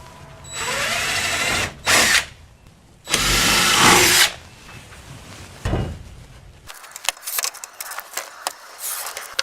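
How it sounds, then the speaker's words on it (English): A power drill whirs loudly in a few short bursts as it bores a pilot hole into a wall stud for a garage rack screw, followed by rattling and clinking of tools and hardware. "Let's drill a little pilot hole for the screw."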